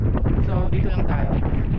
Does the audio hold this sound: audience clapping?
no